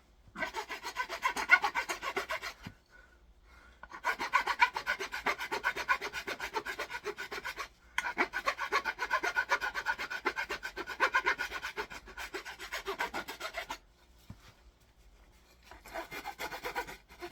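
A rasp chamfers the edge of a wooden axe handle in several close runs of rapid scratchy strokes, each lasting a few seconds, separated by brief pauses.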